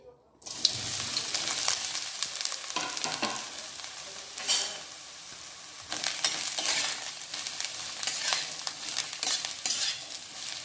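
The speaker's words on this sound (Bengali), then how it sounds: "তেলটা গরম হয়ে গেছে আমি এবার বেগুনগুলো দিয়ে দিচ্ছি" Eggplant pieces dropped into hot oil fry with a loud, continuous sizzle and crackle, with stirring scrapes and bursts of spattering surging and easing throughout, close and alone.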